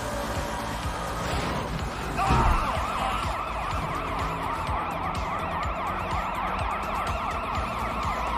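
A police car siren wails steadily in repeated rising and falling sweeps over road noise, with a brief louder thump near the start.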